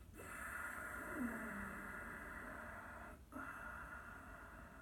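Slow breathing through the nose, audible over a steady background hum: a long drawn-out breath, a brief pause, then another breath begins.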